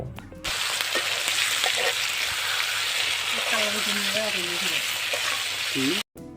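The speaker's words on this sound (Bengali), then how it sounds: "এইবার আমি সবজিগুলো ভালোভাবে নেড়ে নিব।" Pointed gourd and potato pieces sizzle steadily in hot oil in a pan while being stirred, with scraping strokes over a continuous close, loud frying hiss and a brief cut near the end; a voice talks in the background.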